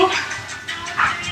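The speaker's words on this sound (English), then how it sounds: "The dogs are barking." Dogs bark and yip in short bursts, fairly close and somewhat muffled, over a noisy indoor background.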